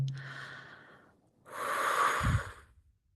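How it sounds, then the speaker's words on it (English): A person breathes slowly and deeply, first a long audible inhale, then after a short pause a fuller, louder exhale blown out through the mouth, close and alone. "Take a deep breath in and blowing that out of the room."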